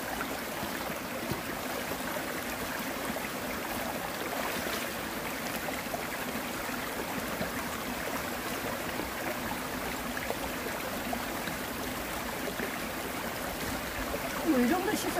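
Freshly dug butterbur roots rinsed under running water, a steady close rush and trickle that continues throughout with brief handling noises near the end.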